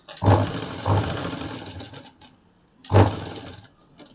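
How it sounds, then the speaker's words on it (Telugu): A sewing machine stitches a lined blouse in short, slow bursts, three separate clattering runs of needle action with quiet pauses between, close by. "స్లోగా కుట్టుకోండి అప్పుడు నీట్గా వస్తుంది"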